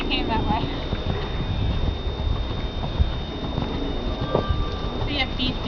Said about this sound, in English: he'll step right into the canter